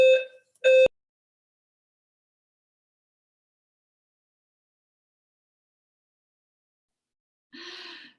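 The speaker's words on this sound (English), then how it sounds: "They really are testing your fire alarm." A fire alarm under test gives two short, loud electronic buzzer blasts in quick succession, then long silence before a fainter burst of noise near the end.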